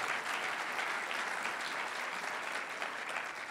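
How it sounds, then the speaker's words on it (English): Conference audience applauding the event sponsors at the opening session, a steady, dense wash of clapping from a large crowd at moderate distance, even in level throughout with no voices. "please give an applause, a big them. Applause for all of them."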